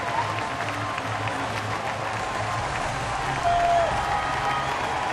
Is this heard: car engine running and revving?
no